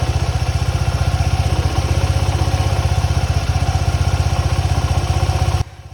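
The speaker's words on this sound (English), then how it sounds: "during idle, there is a prominent clutch clatter noise heard from the clutch enclosure with the friction plates engaged" A Suzuki Gixxer SF 250 motorcycle idles with a rattling clutch clatter from the clutch enclosure, a close, loud, rapid even pulsing throb that drops abruptly in level near the end.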